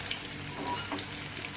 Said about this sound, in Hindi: अब इसमें मैं 1 टेबलस्पून क्रश किया हुआ लहसुन शामिल करूँगी। फ्राई करेंगे इसे।